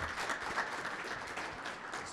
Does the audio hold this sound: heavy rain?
no